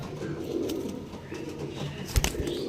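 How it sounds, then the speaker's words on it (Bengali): Pigeons being released coo in low, repeated throaty calls at close range, and a short, sharp burst near the end may be flapping wings. "পায়রা আমি ছেড়ে দেখে দিচ্ছি তোমাদের"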